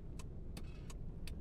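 A damaged car's steering in the Taxi Life video game gives four short, faint, high squeaks at regular intervals, set against a low, steady engine hum.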